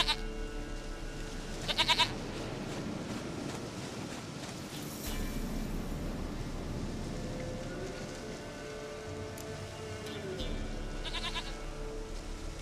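Witcher 3 game goat letting out a couple of short bleats, one early and one near the end, set against a steady wash of rain-like ambience and low background rumble.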